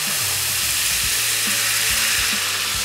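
Wine poured into butter in a hot frying pan beside pork fillet, a loud steady sizzle and hiss that fills the whole stretch with faint clinks of the pan underneath.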